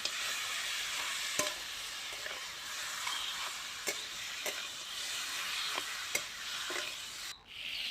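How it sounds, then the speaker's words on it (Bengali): Olives for a pickle frying steadily in a pan, a soft continuous sizzle broken by a few sharp taps and scrapes of a spoon as they are stirred, with no voices. "ভালো করে নেড়ে চেড়ে ভাজা ভাজা করতে হবে জলপাই আচারটা তৈরি করতে হবে"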